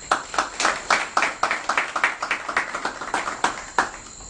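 A small audience claps for the volunteers of an NGO at a prize ceremony, a thin scattering of distinct, sharp hand claps that tapers off after a few seconds, with no talk over it.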